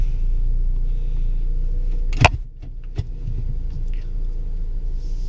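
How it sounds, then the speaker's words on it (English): A Chevy Cruze LTZ rolls slowly around a parking lot, a steady low engine hum from inside the cabin broken by a sharp click and a few small rattles. "Let's drive around this parking lot a little bit."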